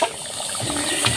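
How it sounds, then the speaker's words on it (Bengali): Home-style chicken curry in a clay pot, just taken off the stove in a village kitchen, keeps bubbling with a soft, steady wet simmer and faint gurgling pops throughout. "চুলা থেকে নামিয়ে নিয়েছি, তারপরও কতটা ফুটছে। অনেকক্ষণ ভরে এভাবে ফুটবে মাটির হাঁড়িতে রান্না করলে।"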